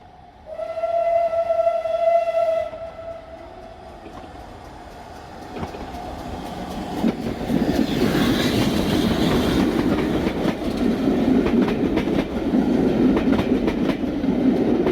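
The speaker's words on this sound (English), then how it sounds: "The first sounds of an approaching train cause all eyes to turn to watch" Great Western Saint Class steam locomotive 2999 draws steadily closer and louder at speed, its rumbling and rhythmic clatter building into a sustained roar, with a whistle tone sounding briefly at the start.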